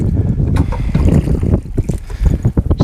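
Wind buffeting a small fishing boat out on open water, heavy low rumbling gusts on the microphone with faint splashing underneath, loud and close throughout.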